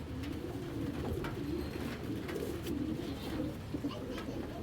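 Giribaz pigeons cooing softly in a loft, a low, steady murmur of overlapping coos at a distance, faint overall with a voice speaking now and then.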